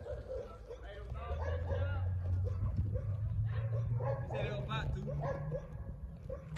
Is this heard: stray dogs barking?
yes